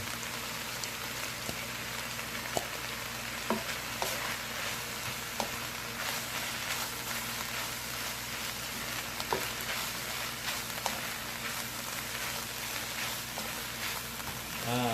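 Wild boar and holy basil leaves stir-fry in a pan with a steady, close sizzle. Occasional scrapes and knocks from stirring sound over a constant background hum, with no voices.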